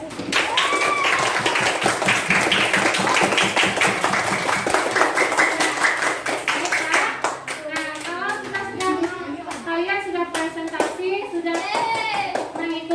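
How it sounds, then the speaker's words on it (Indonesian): Classroom of children clapping together in a brisk, loud burst that fades after several seconds as young voices and chatter take over. "mari kita tepuk tangan dulu, kasih aplaus."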